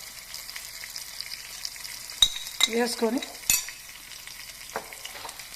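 Oil crackles and sizzles softly in a pan as turmeric is added to a tempering while a spoon scrapes and stirs, with a few sharp clinks and a brief voice.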